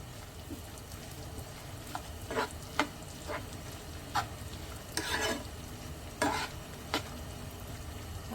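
Coconut pieces frying in a pan for sheer khurma, a soft continuous sizzle with repeated scraping stirs of a spoon at irregular intervals.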